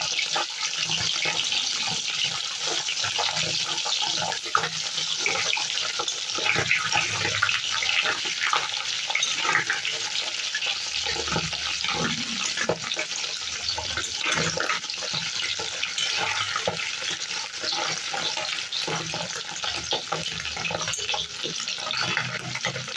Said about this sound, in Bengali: তেল গরম হয়ে গেছে, এবার একে একে এগুলো ডিমগুলো ছেড়ে ভেজে দেবো